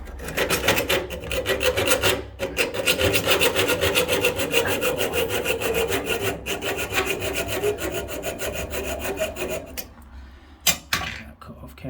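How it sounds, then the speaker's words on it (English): A blade saws back and forth through a copper pipe with a crushed olive during a small cloakroom plumbing first fix, a loud steady rasping that runs close up for about ten seconds before stopping, followed by a few clinks. "I've decided to cut the pipe back because where the olive is, it's quite badly crushed"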